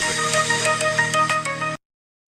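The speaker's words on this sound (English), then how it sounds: "Oh, he got a phone call." A phone ringtone plays for an incoming call, a steady loud electronic melody that cuts off abruptly after under two seconds.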